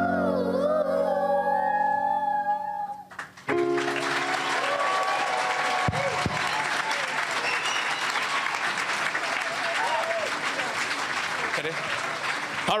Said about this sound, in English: let's have a nice round of applause for the Mather School